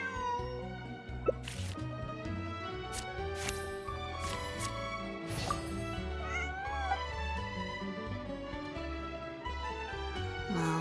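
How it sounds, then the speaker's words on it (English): Cat meowing in Genshin Impact, a few short mews heard faintly over continuous game background music. "This is my friend's cat."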